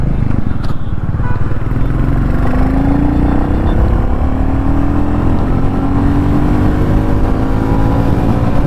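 Royal Enfield Goan Classic 350 motorcycle pulling hard in second gear up to about 80, its engine a steady loud drone with a rising tone as it accelerates, wind rush throughout and no speech.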